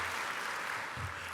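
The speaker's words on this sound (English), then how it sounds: "yes, we can definitely applaud." A crowd at a university baccalaureate ceremony in 2023 gives a short burst of applause, steady dense clapping filling the hall with no voices on top.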